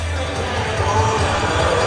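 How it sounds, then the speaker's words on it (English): Large ice hockey arena crowd at a Cardiff Devils versus Belfast Giants game at the SSE Arena in Belfast, a steady dense roar of murmuring fans with no single voice standing out. "A big crowd in the arena tonight as well"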